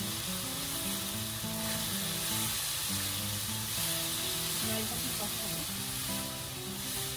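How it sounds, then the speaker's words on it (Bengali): Water poured into a hot pan of spiced chicken with turmeric and cumin, giving a steady fizzing sizzle under soft background music, close and continuous. "এবার আমি এর মধ্যে একটু জল দিয়ে দিচ্ছি হালকা"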